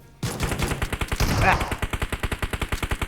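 Gunfire in the mobile battle royale game PUBG Mobile rings out as a rapid burst of evenly spaced automatic shots, loud and close, with a brief noisy swell in the middle.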